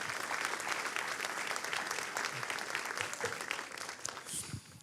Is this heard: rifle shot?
no